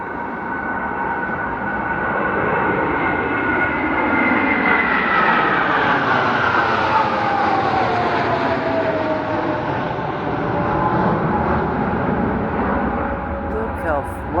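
Su-27 Flanker jets fly low overhead in formation above a downtown area in Vietnam, a loud, sustained jet roar that swells and slowly shifts pitch as they pass, with people talking under it.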